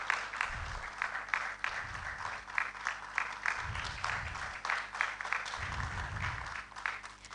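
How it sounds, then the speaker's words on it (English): An audience at a university research awards ceremony keeps up a continuous round of applause for an award winner, the clapping even and sustained throughout. "We can applaud him whilst he makes his way to take the award."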